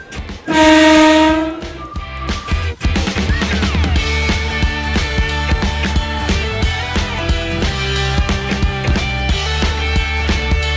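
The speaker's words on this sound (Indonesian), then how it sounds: "8K bunyikan suling" Train horn sounded by the driver of an Indonesian locomotive, a loud sustained blast near the start, followed by steady rail running noise with clattering and rumble continuing to the end.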